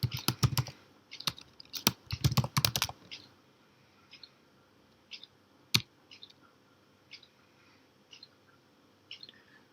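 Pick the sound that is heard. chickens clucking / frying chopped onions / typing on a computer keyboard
typing on a computer keyboard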